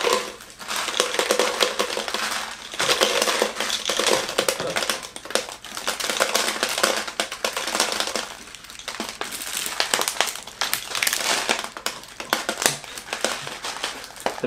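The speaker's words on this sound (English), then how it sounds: "We're going to put beads in the bottle and everywhere else." A steady stream of small beads pours into a plastic bottle shaker, a dense crackling, rattling patter that keeps going throughout at close range.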